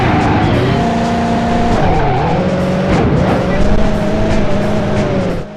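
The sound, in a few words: tyre screech in Driver 2 video game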